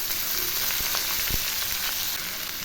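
Data shak greens hit a hot pan already holding kalo jeera, grated ginger and green chillies, giving a loud, steady, dense sizzle throughout with a couple of faint knocks, close up.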